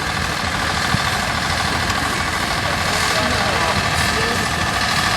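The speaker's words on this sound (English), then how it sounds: "The Deutz" A 1953 Deutz tractor engine idles at a tractor pull, a loud, steady, continuous drone with a rumbling low end and no pauses.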